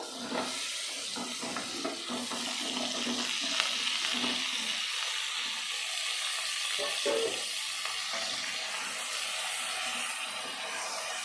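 Cut stalks and potatoes frying with tomato in a pan give a continuous, close sizzle with scraping stir sounds throughout, steady and moderately loud, without clear talking.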